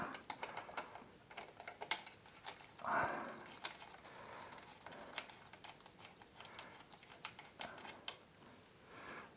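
A ratchet on 17mm and 14mm lower bolts of the rear suspension of a 2017 Honda CRF1000 Africa Twin gives faint, sparse clicks and taps, with one brief louder scrape partway through, close by in a quiet space.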